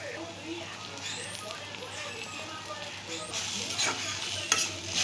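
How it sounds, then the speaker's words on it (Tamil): Chopped chapati pieces sauté in a hot pan, giving a steady sizzle with stirring scrapes that swell toward the end, while a voice talks over the cooking. "இதை போட்டு நல்லா சாட்டே பண்ணிக்க வேண்டியதான்"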